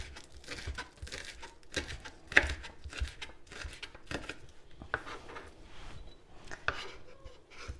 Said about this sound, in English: we need to slice up the spring onions for the garnish later.